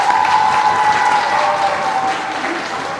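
A room full of guests applauding at a community award ceremony in Birmingham, continuous dense clapping with a steady tone ringing faintly underneath, holding at a fairly loud, even level throughout.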